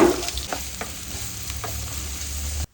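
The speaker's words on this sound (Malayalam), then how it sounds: "വെളിച്ചെണ്ണ ഒഴിച്ചു കൊടുത്തിട്ട് അതിലേക്ക് ഇഞ്ചി വെളുത്തുള്ളി ചതച്ചിട്ട് ഒന്നങ്ങട്ട് ഇളക്കാം" Crushed ginger and garlic hit hot coconut oil and are stirred, starting with a loud burst of sizzle. A close, crackling fry follows, with a few soft stirring scrapes.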